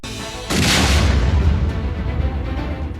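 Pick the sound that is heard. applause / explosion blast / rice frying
explosion blast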